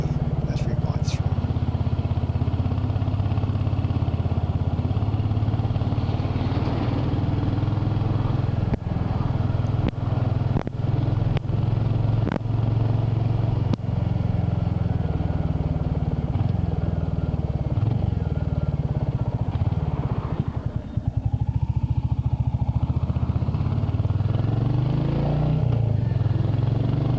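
A motorcycle rides along a quiet late-summer road toward Coniston Water, with a continuous low engine drone and heavy wind rumble lasting throughout, close and loud, with occasional faint clatter.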